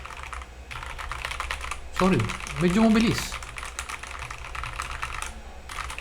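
Rapid clicking keystrokes on an Attack Shark K86 mechanical keyboard during a latency test, steady and close, with someone briefly speaking over the typing.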